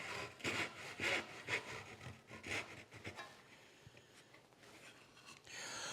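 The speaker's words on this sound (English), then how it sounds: "help anchor that saw in position, get it referenced right up against that shoulder" Hand saw rasping through wood in a series of steady back-and-forth strokes while cutting against a shoulder, the strokes fading toward the end, close and clear with no talk.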